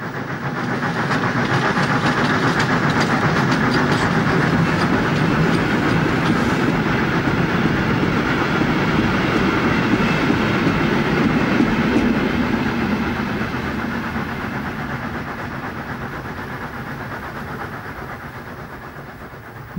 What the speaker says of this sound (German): Verabschieden wir uns von der P8 mit einer abendlichen Ausfahrt aus dem Bahnhof Hausach.